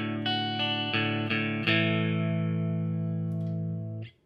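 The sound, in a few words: electric guitar through distortion pedal with reverb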